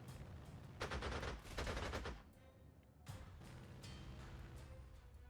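Gunfire in the video game Panzer Corps 2 as a fighter-bomber is shot up, two loud rattling bursts of rapid shots followed by a single sharp blast, then a low continuous rumble.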